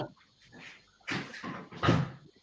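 A dog whimpers and whines in short, close bursts on a cold evening indoors, eager to go outside, with quiet gaps between the cries.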